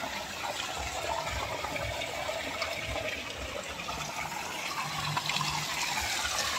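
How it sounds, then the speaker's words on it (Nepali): Mountain spring water from Chandragiri hill flows steadily at an old stone temple site, a continuous close gushing and splashing rush with no talk over it. "पानी यसरी आएको छ। यत्रो यो चन्द्रगिरी पुरै पहाडको पानी हो।"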